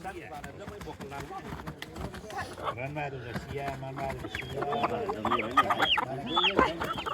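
Chickens and a rooster clucking repeatedly nearby, the calls growing louder and busier toward the end, with people talking underneath.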